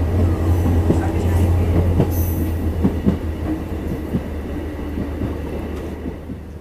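A train rolls past a level crossing on the India to Nepal route, a loud, steady rumble with rail clatter and brief metallic squeals, heard up close for the whole stretch.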